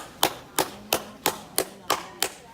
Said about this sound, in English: Now I clap the hands.